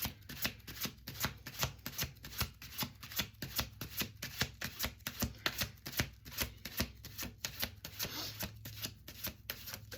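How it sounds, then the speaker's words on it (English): Tarot cards are shuffled in a steady, rapid rhythm of close papery riffles and taps that repeat evenly for the whole stretch, with no talking. "Let's do last shuffle,"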